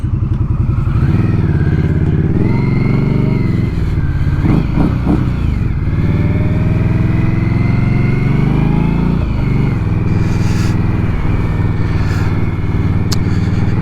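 A motorcycle being ridden, recorded close up from the rider's helmet mount, with a steady engine drone that rises and falls as the throttle changes and a few clunks midway, all under constant wind rush and no talking.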